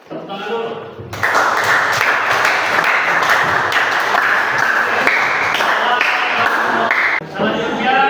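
A classroom group bursts into steady clapping after a brief moment of quiet, a dense wash of hands lasting about six seconds before it tapers off, with voices mixed in.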